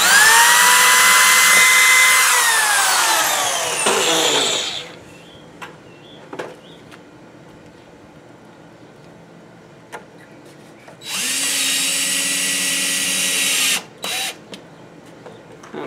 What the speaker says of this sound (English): I almost always pre-drill everything.